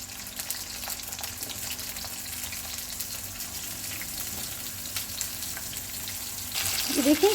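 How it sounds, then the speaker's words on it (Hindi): Masala-coated eggplant slices frying in hot oil give a steady close hiss that holds throughout, with a louder burst of crackling and bubbling near the end. "ये देखिए कितने अच्छे फ्राई हो रहे हैं"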